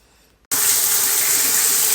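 Water from a tap gushes on abruptly for a bath, a loud steady broadband rush that continues without pause after a brief quiet start.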